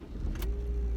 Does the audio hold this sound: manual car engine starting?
yes